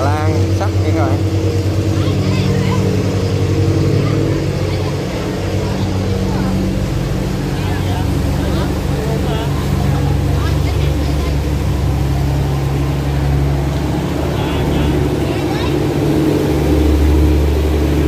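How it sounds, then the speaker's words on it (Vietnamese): Large iron barge engine on a river, a steady deep low drone running throughout under broadband water and wind noise, loud and continuous with no clear change. "Những cái phương tiện lớn là ghe xà lan sắt nha các bạn."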